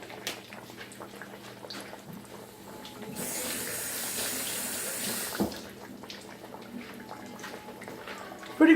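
Water pours from a kitchen tap for a couple of seconds with a steady rushing hiss, then stops, followed by light kitchen clatter.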